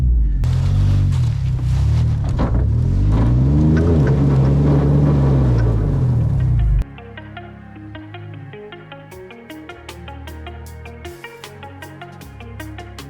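A 4x4 vehicle stuck in snow on a training course strains its engine in a loud, wavering roar with rising and falling revs for about seven seconds, then drops off abruptly, leaving quieter background sound with faint clicks.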